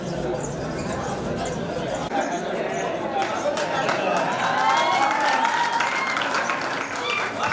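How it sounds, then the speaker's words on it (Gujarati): Crowd clapping loudly and continuously at a festive jubilee celebration gathering, dense and close, with people talking under the applause. "હા તાળીઓ પાડો યાર"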